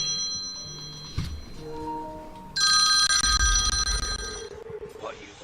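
A telephone rings with bright, repeated electronic bell tones that start partway through and sound loud and close, after some softer tonal beeps and a thump.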